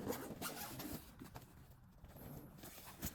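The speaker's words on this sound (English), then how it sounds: "Test zipper smoothness and also fabric situation." A zipper on a garment is pulled during a factory quality inspection to test how smoothly it runs, giving quiet, faint, scratchy zipping sounds.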